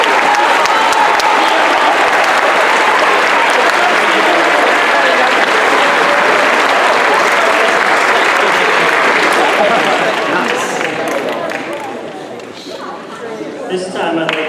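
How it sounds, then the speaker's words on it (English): Audience applauds graduating students at a senior awards night, a long sustained roar of clapping with crowd murmur that thins and fades toward the end. "we have another round of applause for those 69 students"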